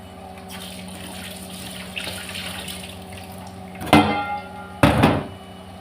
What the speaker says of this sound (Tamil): இப்போ இது 2 நல்லா வாஷ் பண்ணிக்கலாம்